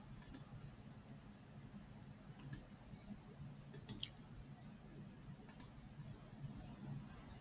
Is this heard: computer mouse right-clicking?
yes